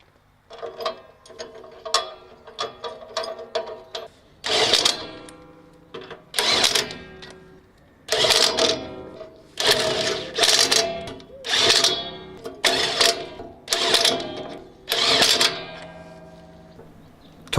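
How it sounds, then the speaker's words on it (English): A ratchet wrench clicks rapidly while torquing two blade bolts on a 52-year-old brush mower, with short bursts of clicking at first and then a longer series of louder, evenly spaced ratcheting strokes. "Torquing the 2 blade bolts."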